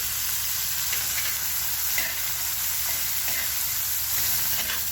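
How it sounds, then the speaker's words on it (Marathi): Green chillies sautéing in a pan for okra bhaji, a loud, steady, close hiss of frying oil with faint stirring clicks, continuous throughout. "हिरवी मिरची आपली चांगली परतून झाली की टाकणार आहे टोमॅटो।"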